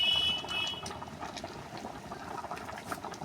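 Red lentil dal with pumpkin and turmeric bubbling steadily in a pot on the stove, a dense continuous simmer of small pops and gurgles, close and moderately loud, with no voices.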